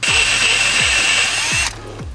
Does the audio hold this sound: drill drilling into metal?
yes